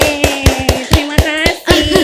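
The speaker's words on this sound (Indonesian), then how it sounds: "Boleh tepuk tangan yang meriah untuk Ambu Yesi." Audience applause at a live talk event, a rapid run of close, loud claps mixed with a sustained tonal backing, with no speech over it.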